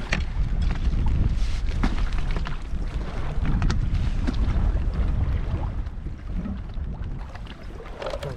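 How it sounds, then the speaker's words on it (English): Wind buffets a lake in Patagonia, Argentina, during a wilderness canoe trip, a loud continuous rumbling gust against the microphone, mixed with water sloshing and faint paddle splashes, easing slightly toward the end. "the wind's gonna spin me around"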